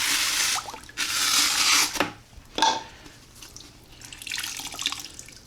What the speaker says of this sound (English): That is clear water coming out.